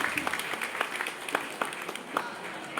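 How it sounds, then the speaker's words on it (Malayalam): Audience clapping at an inaugural function honouring former students, a moderate scattered round of hand claps heard from a short distance, fairly steady for a few seconds. "എല്ലാവരും ഒന്ന് കൈയടിച്ച് പ്രോത്സാഹിപ്പിക്കോ"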